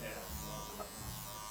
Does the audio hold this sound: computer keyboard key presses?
no